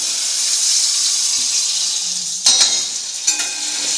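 Garlic, onion and chilli frying in a hot pan, a loud close continuous sizzle with a couple of sharp stirring scrapes near the end and no talk.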